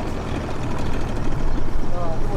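A fishing motorboat's engine drones steadily and fairly loud throughout, a continuous low rumble with people talking over it.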